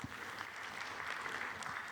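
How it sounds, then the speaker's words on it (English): Audience applause at an industry conference session on brand protection and authentication, a steady, moderately faint wash of clapping that continues through the whole moment without any voices over it. "Give a big round of applause."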